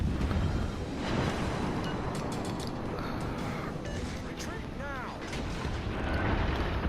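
Naval shells and torpedoes fire in a World of Warships Legends battle, with rumbling booms and blasts layered over constant dense game noise.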